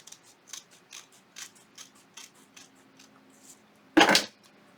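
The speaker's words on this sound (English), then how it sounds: "The scissors are too short." Scissors snipping paper while crafting a small journal-style flip book, a run of quiet, evenly spaced close snips followed by one louder, longer cut near the end.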